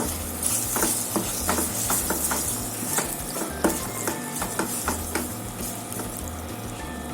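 A spoon repeatedly scrapes and stirs salted masala paste in a pot for vegetable dum biryani, making rhythmic strokes over a low, soft sizzle, close and moderately quiet.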